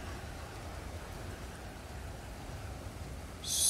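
Steady rain hiss from the survival game Stranded Deep, a soft even wash of falling water with no pauses, joined by a brighter burst of noise in the last moment.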